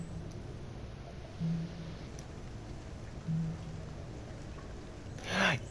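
Rain relaxation sounds play as a steady soft hiss of falling rain, with a few faint tonal blips and a brief louder burst near the end.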